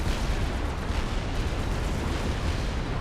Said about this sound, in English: the T2 artillery turns it into scrap